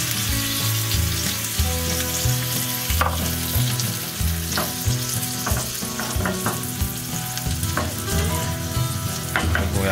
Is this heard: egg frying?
yes